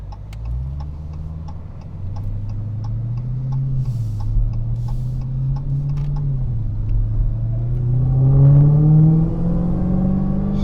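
A Dodge Hellcat's engine accelerates hard, a deep, steady growl that rises in pitch and swells louder toward the end, with faint ticking audible in the background.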